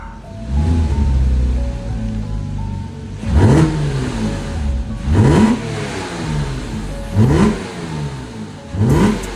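Porsche Cayman 987.1 S, a crash-damaged car being rebuilt as a GT4 replica, revved hard four times after a steady idle, each blip rising sharply and falling back, loud and close.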